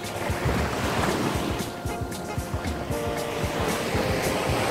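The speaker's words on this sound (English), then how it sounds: "How often do you just get to stroll on the beach and enjoy the sound of the waves?" Ocean surf on Dover Beach, Barbados, washes in as a steady, close roar of breaking waves with some wind buffeting, and no one talks.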